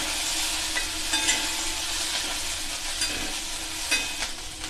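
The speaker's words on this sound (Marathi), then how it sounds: "मिरच्या टाकायच्या आणि मिरच्या चांगल्या भाजून घ्यायच्या अशा।" Green chillies roasting in a pan for pickled-brine mirchi, a soft continuous sizzle and crackle with occasional light pops, close and fairly quiet, with no talk.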